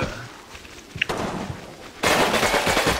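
Squad gunfire in the Combat Mission: Battle for Normandy video game, with scattered shots and thuds building to a sustained loud burst of rifle and machine-gun fire in the final second.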